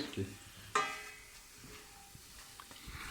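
Syrian chips sizzling in hot oil in a pan while being stirred, with a sharp clink of utensil on pan early on, steady quiet frying hiss after, and people chatting in Turkish over it.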